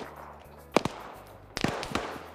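Gunshots in a video game, two separate bursts of sharp cracks, the first a pair of quick shots and the second a denser cluster with trailing echoes, close and loud over a steady low hum.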